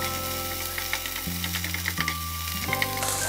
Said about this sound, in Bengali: এবার এটাকে আমরা ভালোভাবে নেড়ে একটু ভেজে নিব।